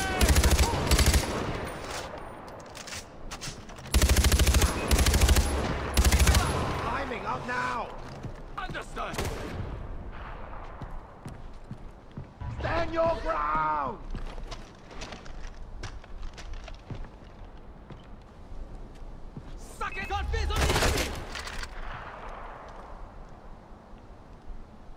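Gunfire in the Far Cry 4 video game, loud bursts of automatic fire in bunches separated by quieter gaps, with other combat noise and some talk between volleys.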